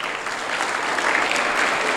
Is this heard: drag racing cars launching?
no